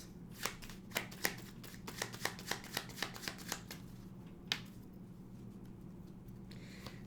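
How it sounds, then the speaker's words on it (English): Tarot cards are shuffled in a fast run of crisp riffling snaps and slaps, a dozen or so sharp clicks in the first half, then a single louder slap and quieter rustling, close up with no talk. "That was a weird shuffle."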